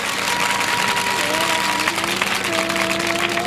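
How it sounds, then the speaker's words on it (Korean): Audience applause after teachers sing at a Korean event, a dense, steady clapping that holds throughout with a faint tonal hum running beneath it. "다시 한번 감사의 박수 드립니다"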